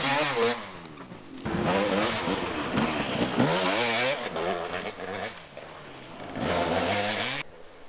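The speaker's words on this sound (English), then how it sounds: "He's got the Mototech KTM pegged right now." A KTM enduro motorcycle at a national enduro race in Westpoint, Tennessee, roars at full throttle, loud and close, with rising and falling revs through gear changes before cutting off abruptly.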